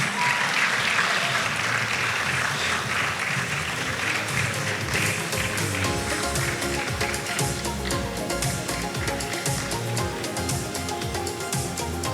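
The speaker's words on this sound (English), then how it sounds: "Put your hands together for her as she comes. A proper round of applause." A large audience at a foundation's stage event gives sustained applause, a loud, even wash of clapping that continues unbroken for over ten seconds, with a faint musical tone underneath.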